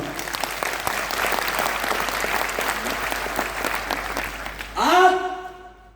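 An audience in a railway auditorium claps loudly and steadily for several seconds, a dense wash of applause that cuts off abruptly before a speaker's voice returns over a hall sound system.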